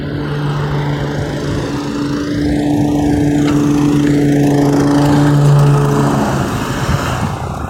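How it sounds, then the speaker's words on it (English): A lawn mower cuts grass near a street, its engine droning steadily and loud with a strong humming tone, swelling slightly midway as it passes by a cyclist. "Like here, it's a guy mowing."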